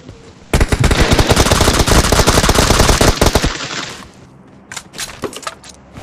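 A powerful gun fires a loud, rapid automatic burst in a sniping-focused video game match, the shots rattling continuously for about three seconds before cutting off into quieter clicks and handling sounds.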